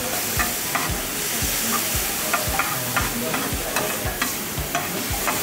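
Tomatoes frying with onions in a pan: a constant loud sizzle, broken by regular scraping strokes as a spoon stirs the mixture, with no talking.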